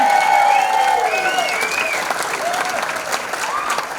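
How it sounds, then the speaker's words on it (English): A comedy club crowd applauds for a first-time performer: loud, continuous clapping mixed with whoops and raised voices, strongest at the start and easing slightly afterward. "I think we should all give Max a fucking round of applause."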